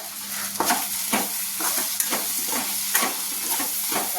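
Tomato curry cooking in a pan as chili powder is stirred in, a steady hissing sizzle punctuated by regular scraping strokes of a spoon, close and without speech.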